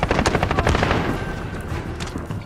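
Rapid automatic gunfire from a silenced LVOA-C M4 rifle in Call of Duty Modern Warfare multiplayer: a dense burst of fast, evenly spaced shots that trails off into a reverberant tail, with no talk.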